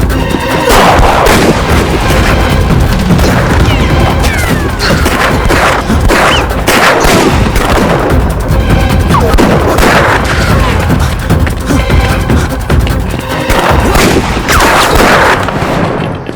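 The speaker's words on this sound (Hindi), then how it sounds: "गोली चलाओ।" A dense, loud movie shootout crackles with continuous rapid gunfire, overlapping bursts and booming impacts that run nearly unbroken for about sixteen seconds.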